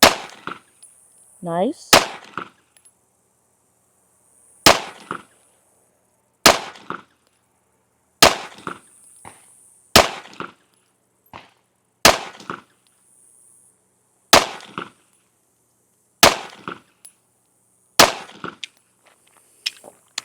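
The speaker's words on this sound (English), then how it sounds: "Headshots at 10 yards with the Taurus G3C." Ten sharp, close pistol shots from a Taurus G3C fired at a 10-yard target on an outdoor range, spaced a couple of seconds apart with brief ringing after each, and one short spoken word between shots.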